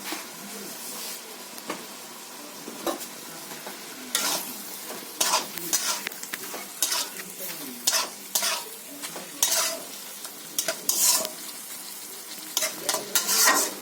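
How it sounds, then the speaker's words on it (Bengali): A spatula stirs Malabar spinach with chili powder in a pan, giving repeated sharp scraping bursts in an uneven rhythm over a faint, steady sizzle. "তো পুঁই শাকটা আমি কষিয়ে নিচ্ছি।"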